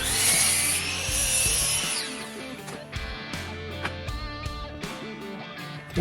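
A wooden board being cut for a table saw spline jig: steady, close sawing that rasps and rubs continuously for about six seconds, loud and alone with no talking.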